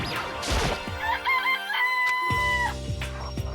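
A rooster crows in the Danganronpa video game, a loud drawn-out cock-a-doodle-doo with stepped pitch, preceded by a rustling burst and followed by game music tones.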